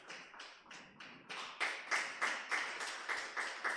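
Steady, rhythmic clapping, about a dozen even claps in a row that grow louder after the first few, with no voices over them.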